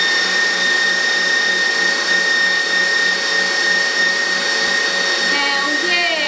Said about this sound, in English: I'm just going to cream this together until it gets really light and fluffy